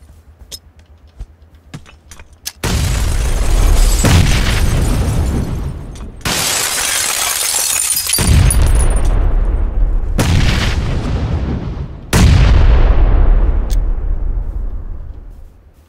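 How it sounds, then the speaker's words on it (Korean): Grenade blasts in the PUBG battle-royale shooter: after a few faint clicks, four loud explosions burst in sequence, each a sharp boom with a long rumbling, crackling decay, heard close and alone. "나 나가서 수류탄 좀 깔게요."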